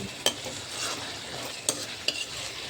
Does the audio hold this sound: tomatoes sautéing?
yes